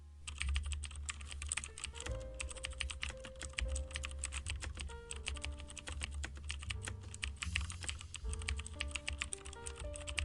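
Code is typed steadily on a computer keyboard, with dense, continuous key clicks and occasional heavier keystrokes, close and fairly quiet, with no voices.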